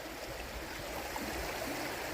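A river flowing past a cabin at a bend in Thermal City, North Carolina, giving a soft, steady wash of running water that rushes evenly throughout, faint and unbroken by voices.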